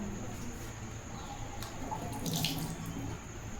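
Water poured onto cooked rice during a home ritual cooking offering, a soft steady trickling and splashing held close by for a few seconds.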